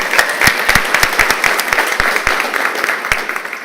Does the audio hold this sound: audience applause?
yes